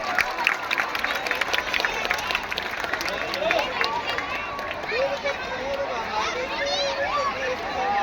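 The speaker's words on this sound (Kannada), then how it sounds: "ಜೋರಾದ ಚಪ್ಪಾಳೆಯನ್ನು ತಟ್ಟಬೇಕು." A crowd at a children's mallakhamb show for an Independence Day celebration applauds and cheers outdoors, a busy mix of clapping and excited chatter and shouts, with voices rising over the noise.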